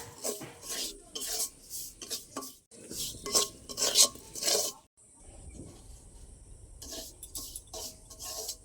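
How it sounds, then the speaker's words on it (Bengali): Semolina stirred briefly in a little hot oil in a pan, giving repeated scraping, rasping strokes with short pauses, close and moderately loud, with a faint sizzle and no talking. "সামান্য একটু গরম তেলে নেড়ে নেব"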